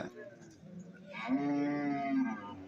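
A single long, low cow moo rises after a moment of quiet background noise at a cattle and buffalo market, fairly close and clear.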